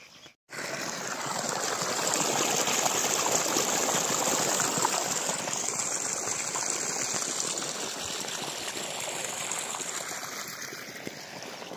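Water gushes steadily from the 3-inch delivery of an 1100W BLDC solar pump on a groundnut farm, a loud continuous rushing flow that holds for about eleven seconds with no voices.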